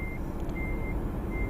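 Trucks crowding a repair area in a truck-driving video game, with a steady reversing beep repeating over a dense, loud engine rumble and no talk.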